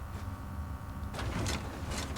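A massive vault door in Fallout 4, built to withstand a nuclear blast, slides open with a mechanical grinding whir and hiss over low background hum.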